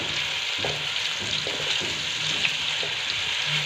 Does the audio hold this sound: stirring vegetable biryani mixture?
yes